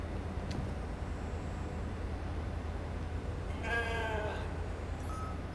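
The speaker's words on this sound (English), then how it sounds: "Never thought I'd be so glad to see a sheep." A sheep bleats once in the video game The Alters, a short wavering call rising over a low steady ambient hum, with a faint click near the start.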